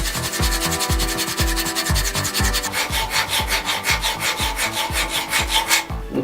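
A knife edge is stroked over 200 grit stones on a Wicked Edge GO sharpening system: loud, close, rhythmic rasping rubs in steady back-and-forth passes, with no voices.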